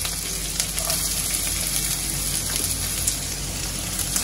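Coarsely pounded garlic fries in oil in a pan, giving a dense, even, close sizzle like steady rain, with no pauses or voices.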